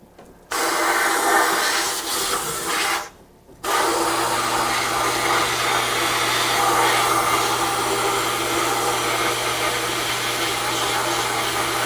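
Strong, steady hiss of an air gun blowing air in a workshop starts, cuts out briefly, then resumes and runs continuously, loud and close.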